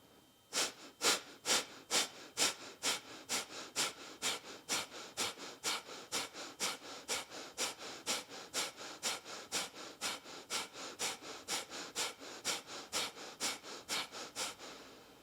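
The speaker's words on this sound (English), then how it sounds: "And then take a few more rounds of breath." Rhythmic nasal breathing during yoga breathwork, a steady series of about thirty quick, forceful sniff-like exhalations close to the microphone, evenly paced with no talking.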